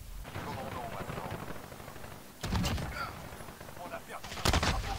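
Rapid bursts of video game gunfire, one cluster of loud sharp shots midway and another near the end, over a steady bed of in-game background noise.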